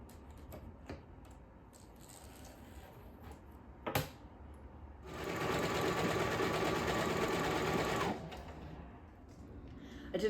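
A sewing machine quilts a sleeve on a jacket made from a comforter, running in one steady, loud mechanical whir for a few seconds after some quieter handling taps and clicks.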